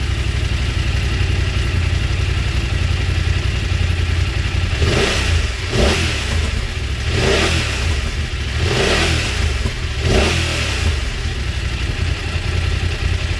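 A BMW F900R motorcycle engine rumbles steadily, then revs up sharply several times in quick bursts, loud and close.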